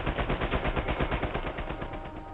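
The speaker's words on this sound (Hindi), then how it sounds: "सैम को शायद गोलियां लग रही है।" Rapid bursts of automatic gunfire in Uncharted 4 rattle continuously, a dense rhythmic volley of shots that stays loud and steady throughout with no talking.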